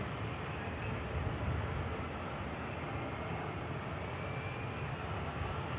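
Airliner engines at Manchester Airport as the aircraft begins to taxi, heard as a steady, dense broadband roar that holds even and continuous at a moderate distance.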